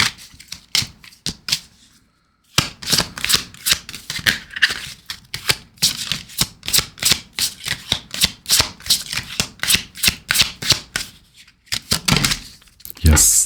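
A deck of oracle cards is shuffled close by in a long run of crisp riffling bursts, with a couple of short gaps and a louder card flutter near the end.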